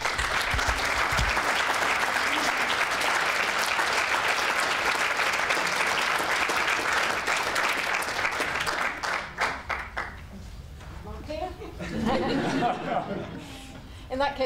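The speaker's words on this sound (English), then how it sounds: "So another round of applause." An awards ceremony crowd gives loud, sustained applause for an inspirational teaching award, heavy clapping for about nine seconds that thins into scattered claps, with laughter and murmured talk underneath.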